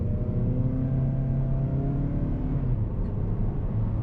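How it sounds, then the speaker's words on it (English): A 2019 Mazda3 Hatchback accelerates, its engine note a steady rising hum heard from inside the cabin, with the pitch climbing and then settling. "Get another good acceleration in."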